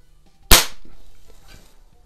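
A Benjamin Franklin model 137 multi-pump .177 pellet pistol fires a single sharp, close crack that decays quickly into a faint tail, with nothing else around it.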